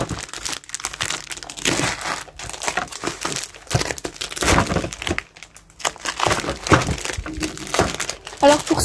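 Wrapping on a package from an Action and Cora shopping haul crinkles and crumples loudly as it is torn open, in irregular close bursts with a few sharp cracks.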